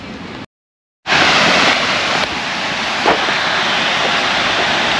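Sanaghagara waterfall in Keonjhar, Odisha, pours as a loud, dense, continuous roar of rushing water, broken only by a brief silent gap near the start.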